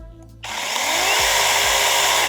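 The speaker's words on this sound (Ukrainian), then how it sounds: "пилка дана працює від універсальної акумуляторної серії ProCraft" A ProCraft PKA44 cordless battery mini saw spins up after a brief quiet moment and runs at a loud, steady, high-pitched whine for about two seconds before cutting off.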